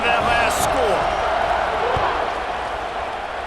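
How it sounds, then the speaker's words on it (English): A stadium crowd in EA Sports College Football 26 keeps up a loud, steady roar that eases off slightly over several seconds, with faint thuds and clatter underneath. "this crowd is buzzing after that last score."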